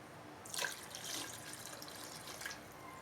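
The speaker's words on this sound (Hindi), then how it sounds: "फिर उसके बाद पानी ऐड करेंगे" Water is poured into a cooking pot for beef yakhni pulao, a soft splashing gush in two faint bursts against a quiet kitchen background.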